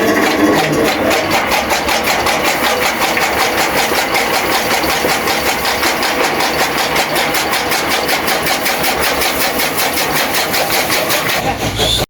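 A tractor engine runs steadily on a farm, a loud, continuous mid-pitched chugging with an even rhythm that holds for the whole stretch and cuts off near the end.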